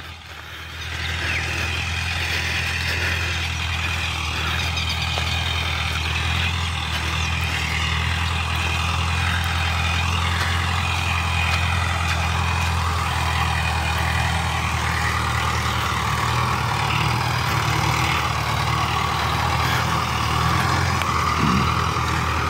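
A 60 HP tractor engine runs steadily with a low, constant idling rumble, close and unbroken throughout, no talk.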